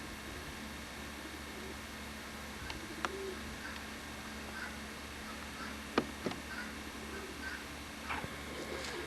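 Pigeons coo at a backyard pigeon loft, soft low coos repeating over a steady hiss of background noise, with scattered clicks and faint chirps.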